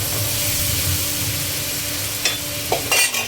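Mixed vegetables with chili powder stir-fried in a hot pan give off a steady close sizzle and hiss, with a few louder scrapes and stirs near the end.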